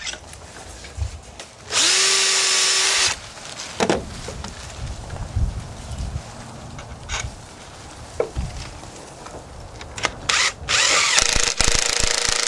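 A power drill driving screws into deck boards whirs in several short bursts, revving up and stopping, with scraping and clattering of work between the runs.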